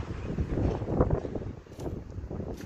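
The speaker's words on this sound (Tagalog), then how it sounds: "Ang lakas ng hangin." Strong wind buffets the microphone, a rough, gusty rumble that swells and dips continuously without any voices.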